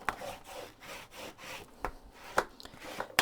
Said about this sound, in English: Okay, burnish it.